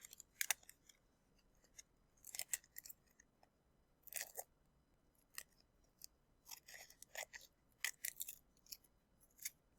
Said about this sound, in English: I'm just going to cut off the extra.